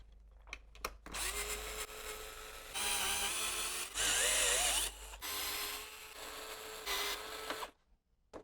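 Several whirring mechanical bursts come from a number 4 screwdriver bit driving out six screws during a pillar reinforcement removal, each run a few seconds long with short clicks and pauses between, close and fairly loud.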